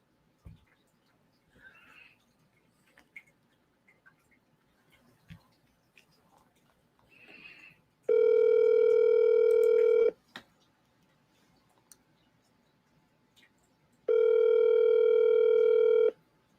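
Outgoing telephone call ringing before it goes to voicemail, two long electronic ringback tones separated by a pause, loud and clean over faint room noise and small clicks.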